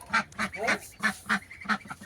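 Ducks on a rural homestead quacking for food, a series of about seven loud, close, evenly spaced calls in quick succession with no talk over them.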